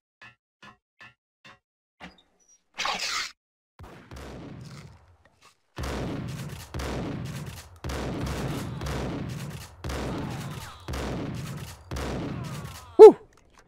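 Bursts of gunfire in the PC shooter Max Payne: faint early clicks, then a series of evenly spaced loud volleys through the middle, ending in one sharp, louder shot, with near-silence between bursts.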